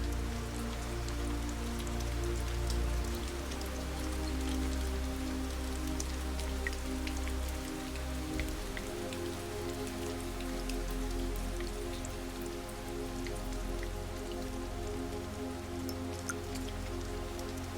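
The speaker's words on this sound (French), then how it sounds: "Au dehors, la pluie continue de tomber" Steady rain falls outdoors, a dense continuous patter of drops on surfaces with a low rumbling undertone, constant and moderately loud throughout with no voices.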